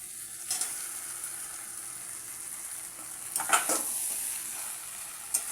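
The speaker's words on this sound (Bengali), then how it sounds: "ভাজা আলু দিয়ে মাটনটাকে আরও ভালো করে একবার কষিয়ে নেব" Mutton with fried potatoes sizzles and is stirred in a pan, a steady low frying hiss with a few louder scraping stirs, close and alone.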